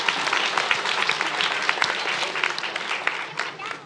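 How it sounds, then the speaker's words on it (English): Crowd at a youth swim team end-of-season awards ceremony clapping for a winner, a busy, moderately loud patter of many hands with a voice talking over it. "you should clap before you even know who it is"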